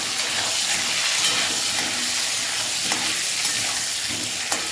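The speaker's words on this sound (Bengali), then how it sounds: "দিয়ে আলুটা লাল লাল করে ভেজে দেবো।" Potatoes fry in hot oil with a dense, even crackling sizzle that holds steady and close throughout, with occasional faint stirring ticks and no speech.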